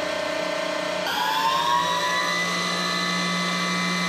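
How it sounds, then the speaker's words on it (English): A Schaublin CNC lathe spindle spins at its maximum 3,500 RPM, a steady machine whine that jumps to a higher, brighter pitch partway through and then holds, loud and close with no voices. "We've got a max RPM on the spindle."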